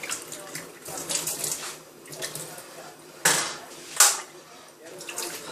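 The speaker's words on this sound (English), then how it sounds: "A little bit of boiling water." Boiling water poured into a coffee cup, a steady splashing trickle with a couple of sharper clinks, close and moderately loud, with faint talk around it.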